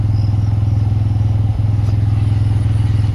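Close, loud motorcycle engine at a steady pulsing idle-to-cruise rhythm while riding, a throbbing low drone with one brief dip midway.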